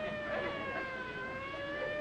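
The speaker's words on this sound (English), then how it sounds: "Them sirens! Somebody's calling the law." Steady wailing sirens drawn out in long sustained tones, distant and fairly faint over a constant background hiss, with no talking.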